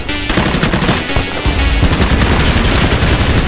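Loud, close automatic gunfire in the shooter BattleBit Remastered, with dense rapid bursts of shots rattling continuously with only brief gaps.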